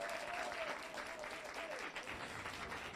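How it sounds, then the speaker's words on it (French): Sustained audience applause at a Caribbean Christmas song contest, a dense steady wash of many hands clapping throughout, with a faint tonal whine drifting above it. "On applaudit encore plus fort,"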